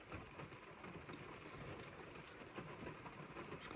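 Rain coming down steadily outside a truck during a rifle hunting season, a faint, even hiss with no talking.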